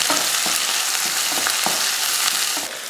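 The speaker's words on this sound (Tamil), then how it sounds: "எண்ணெய் காஞ்சதுமே கொஞ்சம் கடுகு கொஞ்சம் கருவேப்பிலை ஒரு பெரிய வெங்காயம் ரெண்டு வரமிளகாய் இந்த லைட்டாக வதக்கிடுங்க" Onion, mustard seeds, curry leaves and dried red chillies frying in hot oil: a loud, continuous close-up sizzle with rhythmic spatula strokes roughly every half second, and no talking.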